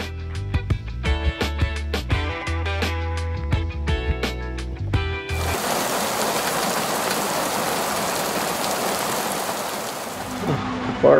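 Heavy rain from a rainstorm pours down with a dense steady hiss that starts abruptly midway, following a stretch of loud music.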